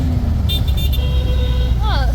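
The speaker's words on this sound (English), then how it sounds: "Oh, here people are singing using honking." Car horns toot on a road in Benin amid traffic, a few short honks followed by a longer rising and falling horn note, sounding over steady road rumble with people talking.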